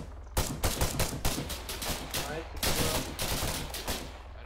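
Rapid automatic gunfire in the military shooter ArmA 3, close bursts of sharp cracks in quick succession with brief gaps between volleys, a heavy sustained exchange that fills the whole stretch.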